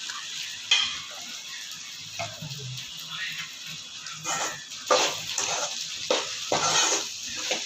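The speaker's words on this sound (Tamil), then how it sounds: "இந்த தண்ணியை ஊற்றாமல் அந்த எண்ணெயிலே தான் மாங்காயை நம்ம வேக வச்சுட்ருக்கோம்." Mango pieces cook in oil with no added water, for a spiced podi mango pickle with jaggery. The oil sizzles steadily, broken by repeated stirring scrapes in the pan.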